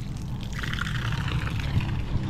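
Water from a newly installed tap pours steadily for a couple of seconds, a close, continuous splashing rush over a low rumble, with no talk.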